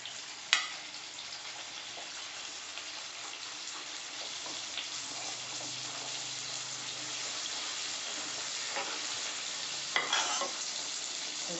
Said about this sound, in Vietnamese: Rồi giờ mình bỏ cái tráng mình chiên nha các bạn ơi.